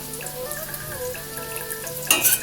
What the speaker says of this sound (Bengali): গ্যাসের ফ্লেমটা মিডিয়ামে রেখে ছোট ছোট করে বড়াগুলো ভেজে নিচ্ছি।